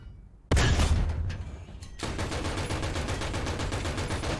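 Gunfire in the game War Thunder opens with a loud, sudden blast after a short quiet, then decays and gives way to a rapid, continuous stream of machine-gun fire.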